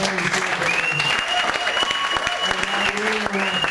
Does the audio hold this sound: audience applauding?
yes